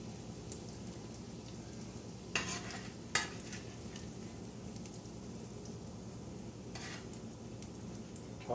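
Breaded okra fries in hot oil with a soft, steady crackling sizzle, while a slotted spoon scoops through it with a few sharp clinks and scrapes against the pan; no voices.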